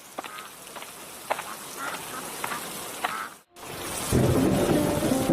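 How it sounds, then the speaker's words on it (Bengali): Heavy rain falls in an animated cartoon as a steady, hissing wash. It breaks off briefly, then returns louder and denser in a heavier downpour, with no voices. "কি জোরে বৃষ্টি নামছে!"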